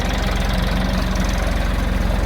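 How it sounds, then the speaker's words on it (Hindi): A tractor fitted with cage wheels for paddy field work runs close by in rural Chhattisgarh. Its engine chugs loud and steady with an even, fast low pulsing throughout, and no other sounds are heard. "वो सब केजबिल लगा के अपन ट्रैक्टर चलाते हैं ताकि खेती किसानी कर सके।"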